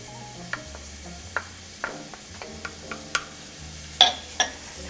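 Onions and garlic fry in a pan under a constant low sizzle while a utensil stirs them, giving a series of sharp scrapes and taps that grow louder near the end.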